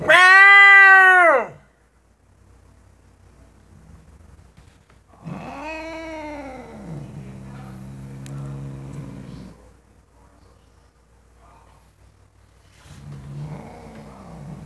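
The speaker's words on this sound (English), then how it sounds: "Go, cat fight." Cats yowl and caterwaul during a fight, with a loud, long, wavering wail, a pause, then a drawn-out moaning howl and a final rising cry over faint background rumble.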